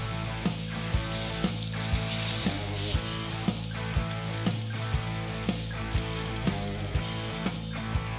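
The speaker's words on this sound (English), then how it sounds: "I'm just going to give those pork chops a real quick sear on both sides" Pork chops sear on a hot grill with a steady, close sizzle and spitting fat, while a repeating rhythmic background beat runs underneath.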